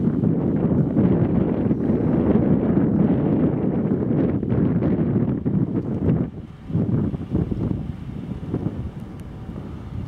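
Hot wind in Death Valley buffets the microphone in loud, continuous gusts, dropping briefly near the end before rushing back.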